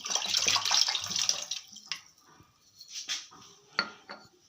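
Water poured from a bottle into a bowl while making Moroccan chebakia, a bright splashing stream for about a second and a half, followed by a few soft clinks and knocks of kitchenware, close and fairly quiet.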